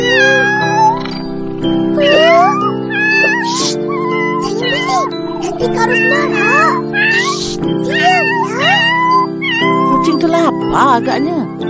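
A cat meows repeatedly in the Sakura School Simulator game, a string of close, loud, rising and falling calls over a steady musical backdrop, with voices talking around them.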